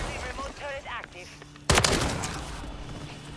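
Video game gunfire erupts in a sudden loud volley of shots after someone speaks briefly, the burst ringing out and decaying under ongoing game noise.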